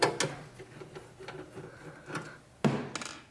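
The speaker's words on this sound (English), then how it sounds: "I'll undo a couple of Phillips screws on the back here." A few Phillips screws being undone on the back of an Acer Aspire TC-780 desktop tower case, with short clicks and scrapes of the screwdriver and a louder knock near the end.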